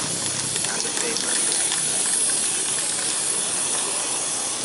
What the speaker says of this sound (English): You take this one and spray black everywhere on the paper.